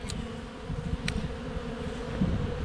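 Honeybees buzz in a low, steady hum close by during feeding with sugar water, a busy droning swarm with a couple of brief higher clicks.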